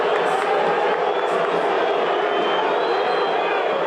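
A dense football stadium crowd roars steadily throughout, a continuous loud mass of voices from the stands with no breaks, suited to jeers rising among fans at a Goiás state championship match.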